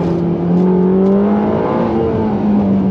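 A Ferrari Roma's twin-turbo V8 revs up loudly and steadily, its pitch climbing as it accelerates, close and continuous with no voices.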